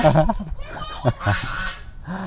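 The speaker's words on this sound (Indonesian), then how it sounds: "ada angsa ya, si penjaga taman bermain" A goose guarding a garden play area honks in several loud, nasal bursts close by, mixed with people talking over it.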